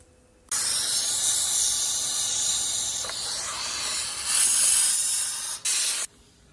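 A Saker handheld steam cleaner sprays steam in a loud, continuous hiss that runs for several seconds with slight surges in intensity before cutting off sharply, close to the mic with no talking.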